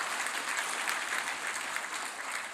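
A church congregation claps steadily at a Sunday service to welcome new members, a dense, even wash of applause from many hands held throughout at a moderate distance.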